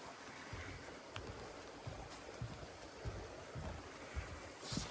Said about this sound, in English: There's another creek. Again, this creek feeds that lake.